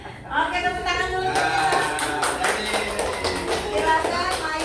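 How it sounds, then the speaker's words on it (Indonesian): A group in a school setting claps hands in a brisk burst that begins after a moment and continues, mixed with talking and voices throughout. "Oke, tepuk tangan dulu."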